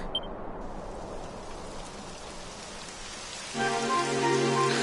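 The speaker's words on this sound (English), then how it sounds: "It would have to go and start raining, wouldn't it?" Steady rain hisses on surfaces, and partway through a brighter layer of tonal sound joins the rain, in Dragon Quest XI.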